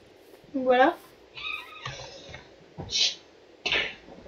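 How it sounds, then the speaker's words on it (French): A cat meows close by, a harmonic cry near the start followed by softer vocal sounds, while someone speaks French quietly in a room. "Désolé pour le bruit de chat."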